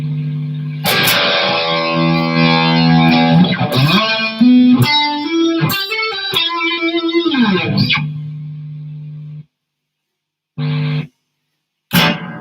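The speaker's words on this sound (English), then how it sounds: "If we crank up the distortion a bit." A heavily distorted electric guitar plays sustained chords and a few sliding notes, loud and gritty, then cuts out, returning in two short stabs.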